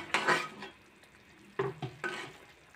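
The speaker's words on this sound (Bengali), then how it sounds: "বেশ কিছুক্ষণ জাল করে মশলা আর লইট্টা শুটকিগুলো আমি ভালো করে কষিয়ে" Spices and dried Bombay duck (loitta shutki) frying in a pan, with a soft sizzle beneath a few distinct close stirring scrapes of a spoon, quiet between strokes.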